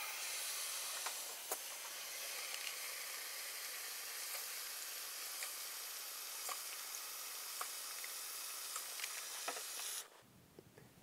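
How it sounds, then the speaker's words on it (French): Warm tap water pouring from a sink faucet into a graduated bucket, a steady broadband hissing rush with small splashes, close and continuous for about ten seconds before cutting off. "on envoie l'eau chaude"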